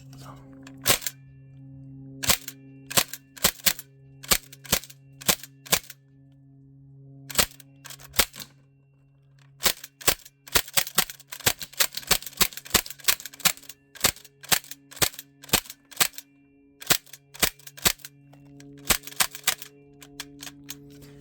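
An Umarex MP5K PDW 4.5mm CO2 BB gun fires in sharp, close, clicky pops, some single and some in quick bursts, over a steady low hum.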